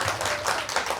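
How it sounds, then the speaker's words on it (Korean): A brief burst of audience applause, dense and steady, fills a Busan marine-life lecture hall for about a second. "박수 한번 주세요."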